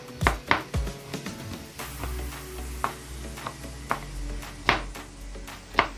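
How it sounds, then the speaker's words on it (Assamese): A knife chops onions on a board for a local chicken curry, leaving a series of sharp, close, irregularly spaced cuts over a low background hum. "মই এতিয়া পিঁয়াজ অলপ কাটি লৈ"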